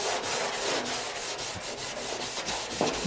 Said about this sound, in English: just give it a good scrubbing, get all that kind of residual muck off.